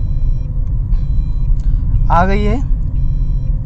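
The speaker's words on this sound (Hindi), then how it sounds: "और अब मैं गाड़ी को आगे बढ़ा रहा हूँ।" Car engine and road rumble as a car moves along a main road in first and second gear, steady and close throughout, with a brief spoken phrase near the middle.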